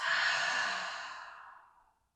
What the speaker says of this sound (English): Take a deep inhale in through the nose and exhale through the mouth.